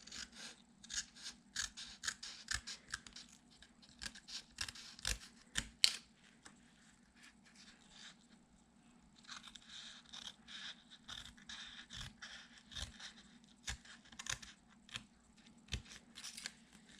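Scissors snip through paper for a scrapbook kit project, with repeated close, crisp cuts and slicing strokes in irregular bursts alongside soft rustling and scraping of the paper over a faint steady hum.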